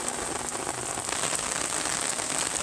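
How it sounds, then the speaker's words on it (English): Rain falls steadily on surfaces outside at night during a thunderstorm in Florence, Italy, a dense, even hiss of close raindrops with no pauses or voices. "It was raining and thunderstorming, but I like that."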